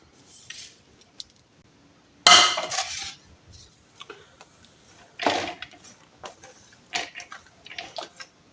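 Minced meat and spices for qeema kebabs being mixed by hand in a bowl, with sharp clinks and scrapes against the bowl arriving in short, irregular bursts separated by quiet gaps.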